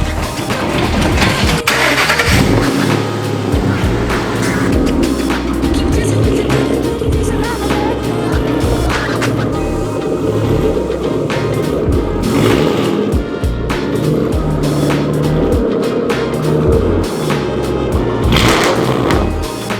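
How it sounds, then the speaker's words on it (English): A Ford Mustang GT's engine runs close and loud as the car is backed into a garage, a steady rumble with small rises in revs and bumps of movement throughout. "I'm gonna go ahead, back the Mustang into the garage."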